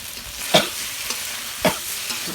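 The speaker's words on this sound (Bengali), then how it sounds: "মাংসটা ভালো করে কষিয়ে নিই।" Chicken meat sizzles in a pan while being stirred, a soft continuous frying hiss broken by two sharper scraping strokes of the spoon about a second apart.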